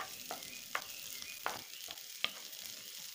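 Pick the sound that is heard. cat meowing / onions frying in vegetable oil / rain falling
onions frying in vegetable oil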